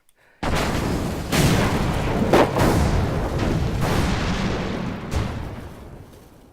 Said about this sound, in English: That's a nice set of explosions, don't you think?